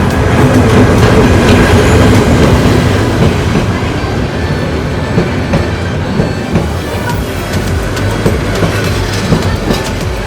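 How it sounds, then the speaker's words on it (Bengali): A loud train rolls past close by, wheels clattering steadily over the rails with a continuous heavy rumble and occasional metallic squeals. "দেখি ট্রেনের হর্ন শুনতে পেলাম"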